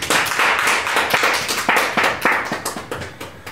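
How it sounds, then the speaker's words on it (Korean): Audience clapping at a Korean talk on hanbok and Hangul held in a hanok salon, a fairly small crowd producing steady, dense hand claps close by, with no voices over them. "박수 한번 쳐주세요."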